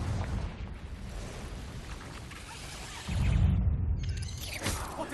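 The Confringo fire spell from Hogwarts Legacy goes off as a roaring, rumbling blast with crackling debris, swelling louder midway before a whooshing tail.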